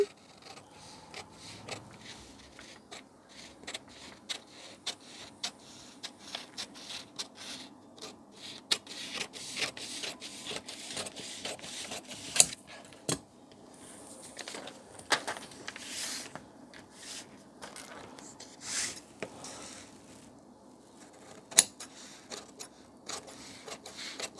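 Scissors snipping through blouse fabric on a cutting table during tailoring, a series of sharp, irregular close-up cuts and rasping strokes with soft rustling between them, no talk.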